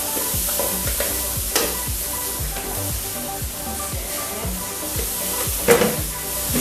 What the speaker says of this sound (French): une fois que votre roux est prêt et caramélisé, on ajoute les légumes dans le même pot